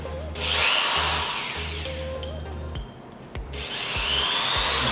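Uchiha 10 mm electric drill running, its motor whining up and down in short bursts as the trigger is pressed and released, close and loud, with rubbing and wood sounds between.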